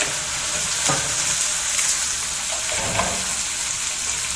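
Onions and garlic sizzle steadily in hot oil, a dense crackling hiss with occasional stirring scrapes, close up.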